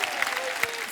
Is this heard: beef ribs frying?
no